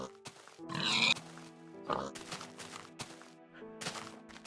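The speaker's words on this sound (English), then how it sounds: "A lot of pigs." Pigs oinking in a Minecraft-style Far Lands game world: several short grunting snorts spaced unevenly, with a voice talking over them and background music.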